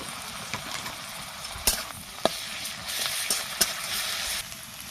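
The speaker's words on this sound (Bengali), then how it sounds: "এবারে রসুন বাটাটা দিয়ে দেব।" Garlic paste fries with onions in mustard oil in a kadai, a moderate steady sizzle broken by a few sharp spoon clicks against the pan, with no speech.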